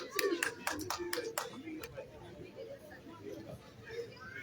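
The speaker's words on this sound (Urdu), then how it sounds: "بہت ساری تالیاں" Hands clap in a brief scattered burst at a golden jubilee gathering, the claps sharp and close at first, then tapering off under crowd chatter and voices.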